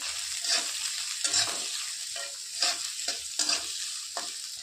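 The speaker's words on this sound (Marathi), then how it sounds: "कांदा छान लालसर होईपर्यंत परतून घ्यायचं आपल्याला" Onion frying in a pan, a steady close sizzle broken by five or six regular scraping strokes of a spoon stirring it.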